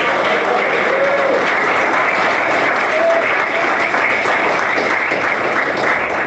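A church congregation claps during a sermon, a loud, dense, continuous wall of applause from a large crowd filling the room with no pause.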